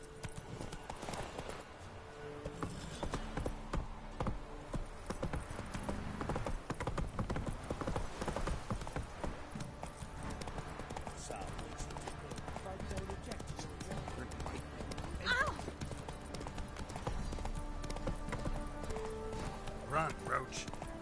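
Roach the horse gallops through The Witcher 3, steady hoof clip-clops running close and loud across the whole stretch, with game music and voices layered underneath.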